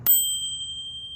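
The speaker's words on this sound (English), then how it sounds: "And over here I got this bell." A single bright ding from a small bell mounted upside down on a Jetson Bolt Pro e-bike, struck once close up, its clear metallic ring sustaining and fading slowly.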